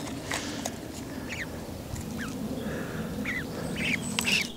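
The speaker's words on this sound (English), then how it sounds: "Back on the other side, the three remaining goslings have reappeared." Canada goose goslings giving several faint, high peeping calls at a distance in a London outdoor setting, spaced irregularly over a steady background rumble.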